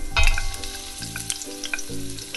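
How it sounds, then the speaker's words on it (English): Onion frying with garlic in a pan, a loud, close sizzle with crackling pops and stirring, unbroken by any voice. "So basically just caramelize the onion."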